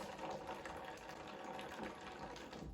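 Water squeezed backwards through a Sawyer squeeze filter to back flush it, a continuous close gushing, hissing flow with no pauses.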